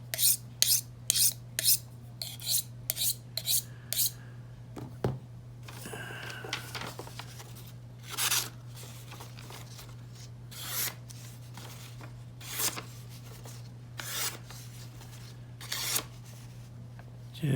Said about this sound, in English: then we'll just hone it, just float it just the weight of the blade.